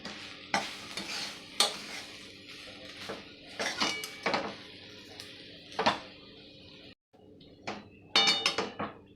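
A spoon repeatedly stirs and scrapes roll filling seasoned with amchur powder and sugar in a pan, with sharp metallic knocks against the pan over a soft sizzle, fairly close and with no talking.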